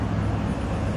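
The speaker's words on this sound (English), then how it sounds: "the traffic over here is pretty heavy" Heavy road traffic by a sidewalk table in Fresno, a steady low roar of passing vehicles that holds constant throughout, with no voices.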